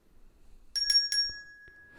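A small silver bell gives three quick bright strikes, then a single clear tone rings on and slowly fades in a quiet room.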